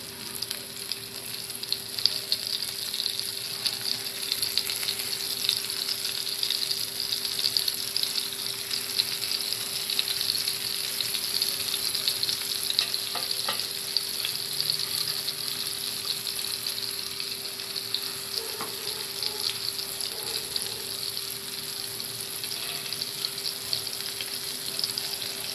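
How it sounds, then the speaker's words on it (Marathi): Prawns frying in a pan over high heat, a loud, steady hissing sizzle that runs unbroken and even throughout with no talk. "आता आपण त्या फ्राय करणार आहोत।"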